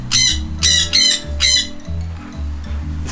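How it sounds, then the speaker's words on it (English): Several loud bird squawks and chirps ring out at a campground, coming in repeated bursts over a steady low hum of background noise. "This campground has all these different birds."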